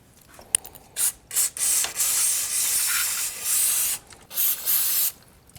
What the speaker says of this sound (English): I'm gonna take some brake parts cleaner and spray off the excess oil.